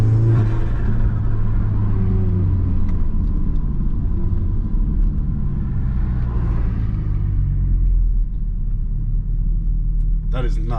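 A stage 2 turbocharged Golf GTI with its diverter valve removed rumbles loudly and steadily at close range, with sustained engine drone and a swelling rev partway through, ending with a brief sharp burst.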